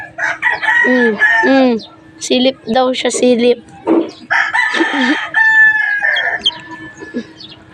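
Backyard chickens cluck and a rooster crows close by, repeated calls overlapping with a person talking to the birds.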